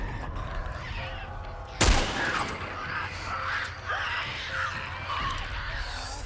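A single sharp gunshot in The Last of Us survival mode, loud and sudden, followed by game ambience with faint creaks and distant shouts.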